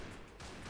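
A rapid burst of gunfire in the battle royale game Thrive Island Online, dense and continuous, filling the entire brief moment.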